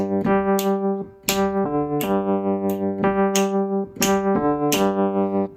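Latin-style tumbao bass line on a keyboard: a repeating low syncopated figure with steady, evenly spaced attacks, played alone, close and clear.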